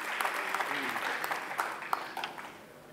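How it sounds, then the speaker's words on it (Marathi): An audience at a lecture series claps together, a patter of many hands with sharp individual claps standing out, fairly faint and gradually thinning toward the end. "आपण शीतलताईंसाठी पुन्हा एकदा जोरदार टाळ्या वाजवूया."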